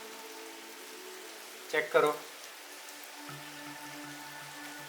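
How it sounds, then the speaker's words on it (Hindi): Rain falls outside, a soft steady patter heard from indoors throughout. Someone speaks briefly over it partway through, and a low hum runs underneath. "बाहर बारिश हो रही है,"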